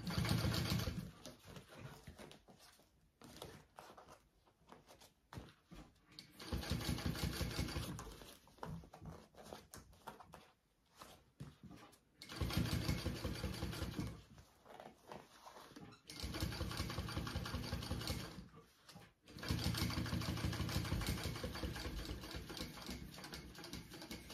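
A sewing machine stitches through thick material in several bursts of steady, rapid mechanical whirring, each run lasting a few seconds and separated by short pauses, close and fairly loud with no talking.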